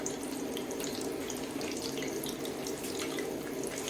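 Steady stream of water running from a kitchen tap into a sink while hands are washed, a constant, moderately quiet rush with no talking.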